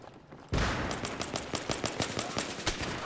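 Rapid automatic gunfire in Battlefield 3, a fast, close, loud stream of shots rattling off in quick succession after a sudden start, with no talking.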